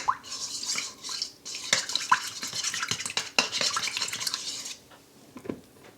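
Water being mixed by hand in a bowl for koonday dough made with maida and atta, giving close, irregular wet scraping and stirring strokes that fade out near the end.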